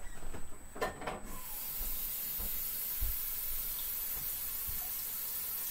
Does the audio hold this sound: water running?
yes